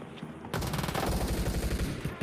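Shotgun fire in a team-based shooter video game, a sudden loud burst of rapid, closely spaced shots after a quiet start, continuing densely to the end.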